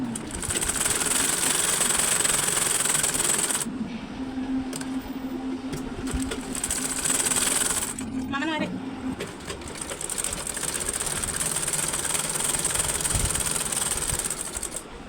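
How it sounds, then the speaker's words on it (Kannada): A sewing machine stitches a cross belt onto a garment in fast whirring bursts with brief pauses between runs, while a person talks over it. "ಅದನ್ನು ನಾನು ಸ್ಟಿಚ್ ಮಾಡ್ಕೊಳ್ತಾ ಇದ್ದೀನಿ"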